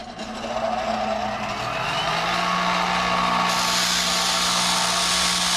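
Power tool, likely a grinder, spinning up and grinding against an aluminum cable connector in a scrapyard spark test, a loud steady whine with a rising pitch that turns harsher and brighter midway.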